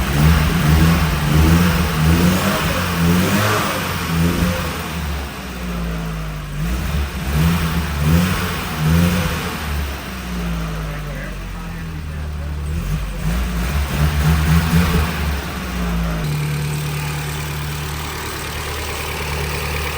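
An old Porsche engine, revived after years unused, idles roughly and revs in repeated surges that rise and fall across the stretch, loud and close, with a person talking over it.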